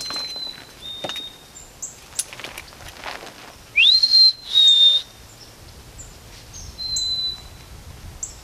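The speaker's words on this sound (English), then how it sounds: "our white-throated sparrow's back" A white-throated sparrow whistles clear, sustained pure notes outdoors at a wet, cold campsite, with a strong rising phrase in the middle and fainter calls around it over quiet ambient noise.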